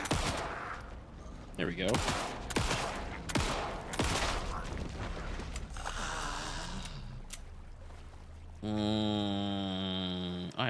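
Rapid bursts of gunfire from shooting in the video game Alan Wake 2, several loud shots in quick succession followed by a sustained mechanical tone, with a voice speaking briefly over it.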